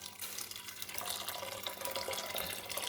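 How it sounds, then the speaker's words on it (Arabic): Water poured onto crushed fava beans in a pot, a steady close splashing rush that runs the whole time at low level with no talking. "هلأ رح أضيف مية للفول المجروش"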